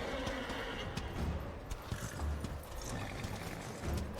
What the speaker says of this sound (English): And that is Ruin, War's horse.